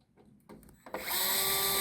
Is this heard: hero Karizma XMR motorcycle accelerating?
no